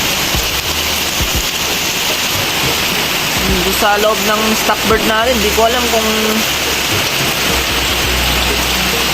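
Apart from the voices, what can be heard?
heavy rain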